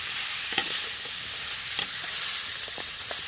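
Pork and ribs being stirred in a pan at an outdoor stream-side cook, with a steady sizzle and a few soft scrapes, close by and without talk.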